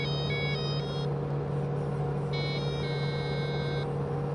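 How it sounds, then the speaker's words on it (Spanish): A Lada Niva cruises on a motorway at about 4,280 rpm, giving a steady loud engine drone and road rumble throughout. Faint high electronic tones sound in two short bursts, with no talk. "El ruido, pues es el que hay de un Niva."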